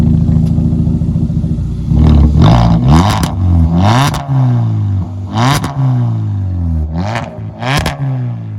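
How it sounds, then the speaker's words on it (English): Straight-piped 2016 Kia Soul with a 1.6L engine, close and loud, blipped through a series of sharp revs that rise and fall back to a raspy idle, about six quick throttle stabs with no talk. "What a Kia Soul sounds like when it's straight."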